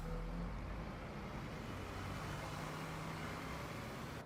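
Street traffic rolls past at a steady low level, a continuous engine and road rumble from a passing bus and other vehicles heard from some distance, with no voices.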